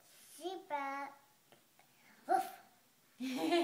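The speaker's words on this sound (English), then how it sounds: "it's a puppy" A puppy gives a few short, high yips and barks close by, with a voice nearby between them.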